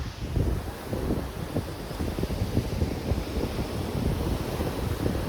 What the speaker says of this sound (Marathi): या समुद्राचा आवाज ऐका